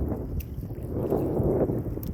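Rough, rumbling sea waves surge around a fishing boat after the southwest monsoon, with gusty wind buffeting the microphone, a continuous low wash rising and falling close by.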